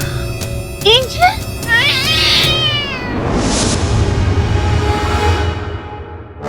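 A cat in a television courtroom drama scene gives several rising, wavering meows, then a long, loud drawn-out yowl over a busy background of room noise.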